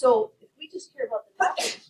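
A single sneeze in a classroom, sharp and close, coming near the end of a teacher's spoken sentence.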